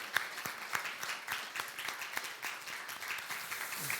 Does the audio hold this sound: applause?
yes